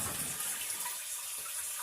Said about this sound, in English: Flush it a few times. Make sure it's not leaking.